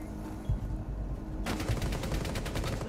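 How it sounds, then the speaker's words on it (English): Gunfire in the console shooter Rainbow Six Siege: a quiet moment, one thump, then a sustained rapid automatic burst of shots pounding loud and close until the end. "that's why there were so many gunshots from Frost"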